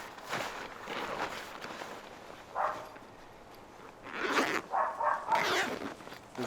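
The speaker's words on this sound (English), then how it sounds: "The zippers on this are pretty flimsy." A zipper on an ice fishing hut bag is run in several quick, raspy pulls, some short and some longer, close by against a quiet outdoor background.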